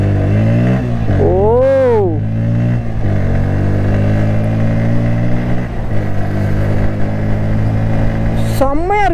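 A Bajaj Pulsar N160 motorcycle accelerates on a test ride, its engine rising in pitch through the gears with brief drops at shifts, loud and close with wind noise.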